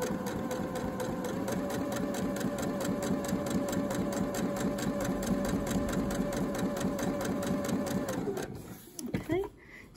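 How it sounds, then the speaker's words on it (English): A sewing machine stitches through a single layer of dress fabric in a fast, even mechanical chatter that runs for about eight seconds, then stops with a few handling clicks. "We're just stitching through the 1 layer of fabric."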